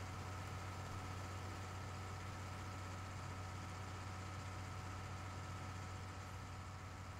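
Tractor engine in Farming Simulator 19 runs steadily, with a low droning hum and constant mechanical noise throughout, no voices.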